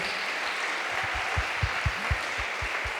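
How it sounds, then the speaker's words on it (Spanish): Congregation applause at a church sermon, a broad wash of clapping from a crowd, with low rhythmic thumps pulsing through it, steady and moderately loud without speech. "Un aplauso es lo que se merecen."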